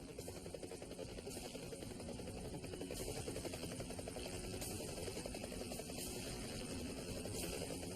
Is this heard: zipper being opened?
no